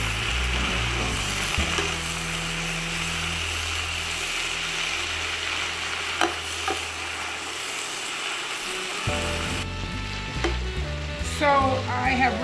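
Spinach sautés with onion and garlic in a pan, giving a steady close sizzle. Scraping and clinking from stirring run through it, busier toward the end, with no talk.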